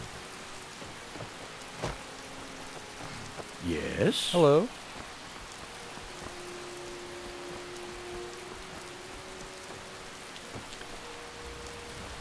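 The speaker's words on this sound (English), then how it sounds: "It's not really a storm, it's just kind of a light rain." Steady light rain patters throughout a Skyrim scene, a soft even wash of noise at moderate level, with a few in-game voices briefly talking over it.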